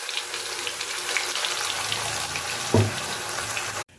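Ground ridge gourd peel paste poured into hot mustard oil tempered with chilli and black mustard seeds, giving a steady broad sizzle with a brief louder splash near the end before it cuts off.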